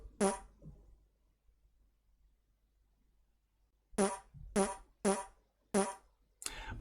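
Cartoonish fart sound effects from a JavaScript fart button play out. A single blast comes first, then a gap, then a quick run of four or five sharp, loud toots in a row.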